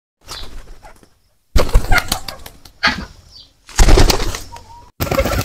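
Pigeons beat their wings in several loud, close bursts of flapping, with short silent pauses between each flurry.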